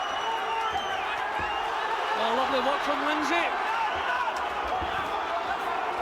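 A boxing crowd roars steadily at ringside during a British 126lb title bout, a constant loud wash of voices with occasional thuds and cheers, while a commentator talks over it.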